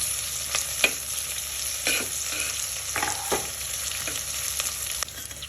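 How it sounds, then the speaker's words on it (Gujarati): Chopped capsicum sizzles steadily while being stirred and sautéed in a hot pan for veg frankie filling, with a continuous frying hiss broken by intermittent scraping strokes of the spatula. "ત્યારબાદ આપણે એડ કરીશું કેપ્સિકમ. તેને પણ સારી રીતના મિક્સ કરી લઈશું."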